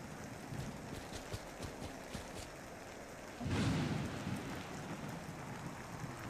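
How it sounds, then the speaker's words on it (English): Steady rain falls through a night scene in the video game Misery, a soft constant patter throughout with a brief heavier gust of noise midway. "Rainy, rainy night."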